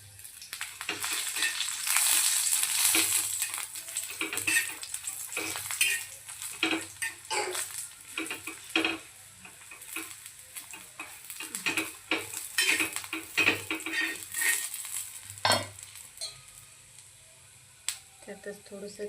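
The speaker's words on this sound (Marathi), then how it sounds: "थोड़स तेल टाकन त्यामध्ये आपण मिरच्या भाजून" Green chilies roast in hot oil in a pan, a steady sizzle with spatula stirring and clinks of utensils against the pan throughout, close and fairly loud, while a person talks over it now and then.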